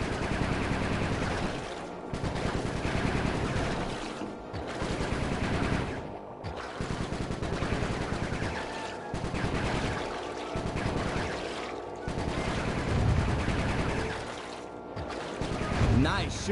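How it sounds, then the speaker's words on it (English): Rapid bursts of gunfire from the Sly 3 video game on PS5 come in repeated volleys with brief pauses between them, loud and dense, with game dialogue mixed in. "Nice shooting, Bentley."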